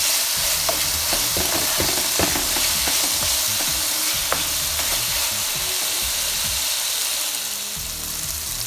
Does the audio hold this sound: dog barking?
no